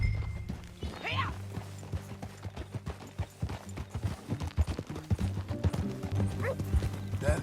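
Horse hooves clip-clopping at a steady walking pace in Red Dead Redemption 2, fairly close, with a brief horse snort or whinny and some low background rumble.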